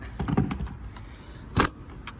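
A CHAdeMO adapter connector is pushed into an electric car's charging port, heard as a few close plastic and metal rattles, then one firm clunk as it seats.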